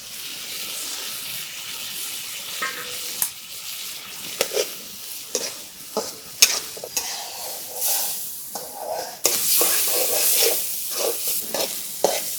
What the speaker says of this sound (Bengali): মশলা কষানো হয়েছে এবার চিংড়ি মাছগুলো দিয়ে দিন